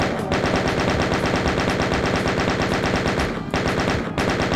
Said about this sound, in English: Switch to our chain gun here actually.